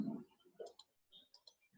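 A computer mouse gives a few faint, quick clicks in a quiet room, spaced irregularly over a couple of seconds.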